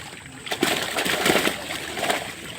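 Fish thrash and splash in the water as a fishing net is hauled up, close irregular slaps and sloshes over a few seconds.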